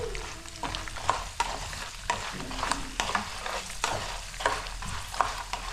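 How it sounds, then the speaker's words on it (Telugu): Food frying on a medium flame for sweet poornam boorelu preparation, steady soft sizzle with repeated scraping stir strokes at close range, no talking. "మీడియం ఫ్లేమ్లో పెట్టి వేపాలమ్మా"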